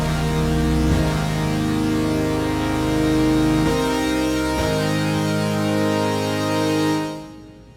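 A Brute Brassic synth lead from the Analog Dreams library in Kontakt plays a sustained, bright, buzzy brass-like tone with a few shifting notes, loud and alone, then fades out at the end.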